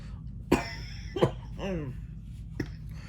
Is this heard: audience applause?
no